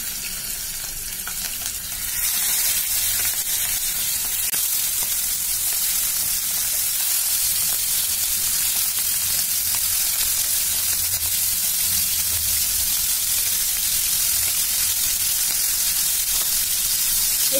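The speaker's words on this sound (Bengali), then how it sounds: "আমি মাছগুলো দিয়ে ভেজে নেব" Prawns frying in mustard oil, a dense, loud hiss that swells just after they hit the pan and then holds steady, with faint stirring beneath and no speech.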